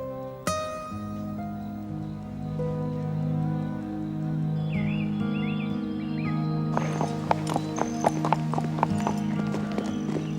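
Horse hooves clip-clopping at a steady walking pace, close and clear over a music background, with a horse whinnying partway through.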